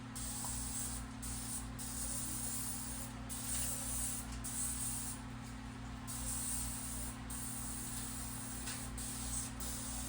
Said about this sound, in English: I don't have any cooking spray. I have a little bit of spray.